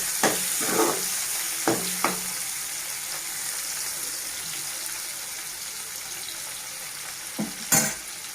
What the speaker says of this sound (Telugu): ఇంకా 2 మినిట్స్ ఫ్రై చేస్తాను